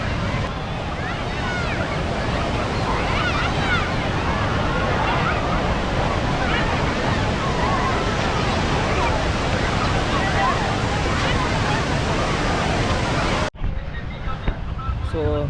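Waterfall pouring heavily, a loud, dense rush of water that holds steady before cutting off abruptly near the end.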